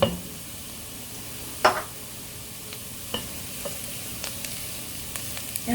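Ingredients, including fresh minced ginger, stirred in a pan for mulligatawny soup: a soft frying sizzle underneath, with a few sharp utensil scrapes and taps against the pan at irregular intervals, no voices.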